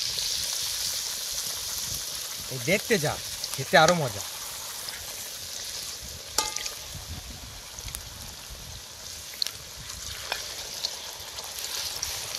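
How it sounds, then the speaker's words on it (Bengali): Brinjal fritters (beguni) with coriander sizzling in hot mustard oil outdoors by a dam embankment, a steady frying hiss under a few spoken words and brief clatters of cooking utensils. "বেগুনি ভাজা চলছে আমাদের।"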